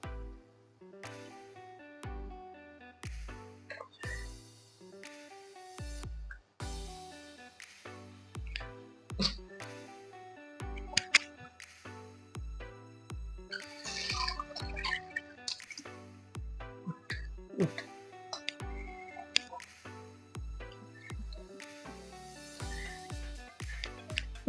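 Kulith flour is stirred into water, giving soft wet squishes and clicks of a utensil against the bowl in an uneven rhythm, close and fairly quiet, with short pauses between bursts of mixing.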